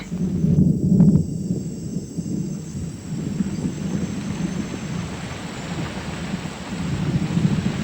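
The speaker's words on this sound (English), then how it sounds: "Came on with tropical suddenness. Rain fell in buckets." Tropical jungle thunderstorm in Ecuador: a loud thunder crack near the start over a steady, dense roar of heavy rain falling in buckets, continuing without pause.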